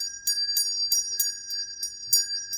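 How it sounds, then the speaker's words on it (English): Someone rings a loud bell in quick succession, about six bright, sharp strikes with shimmering overtones, each ringing briefly before the next, in a quiet room. "So, okay, so I do that, then I ring a bell. This one is very loud."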